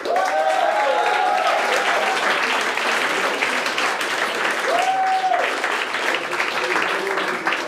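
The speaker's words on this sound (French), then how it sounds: "Un tonne d'applaudissements pour René Gagné!" A comedy show audience gives a comedian from Québec loud, continuous applause as he comes on stage, the dense clapping sustained throughout with occasional whoops and cheers riding on top.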